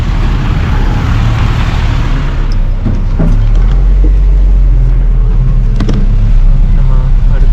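Crowded buses and road traffic in Kenya fill the air with a loud, steady engine rumble and hiss, with a few faint clicks and knocks along the way and people talking beneath it.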